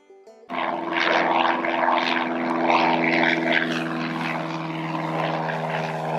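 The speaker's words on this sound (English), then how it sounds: "this is a pretty active strip here. We have up to 20 or plus planes flying out of here on a daily basis" A propeller airplane at an active airfield starts up with a sudden jump to a loud, steady engine drone with a strong tonal hum, continuing close by without any talking.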